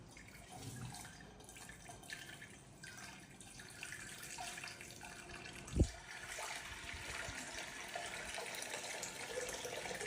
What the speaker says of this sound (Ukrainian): І просто зливаємо воду в кастрюльку.